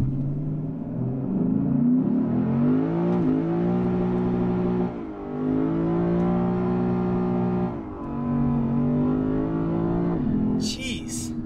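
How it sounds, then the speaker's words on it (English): A Lexus RC F Fuji Edition launches under launch control, its engine note climbing steadily and loudly through the gears, with brief dips at each shift before it pulls again. "All right, let's do one more launch."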